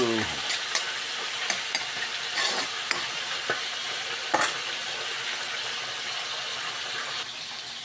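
Hot cooking oil spits and crackles as onion and garlic fry for a beef broccoli dish, a steady dense sizzle with sharp pops scattered throughout, close and continuous, no voices.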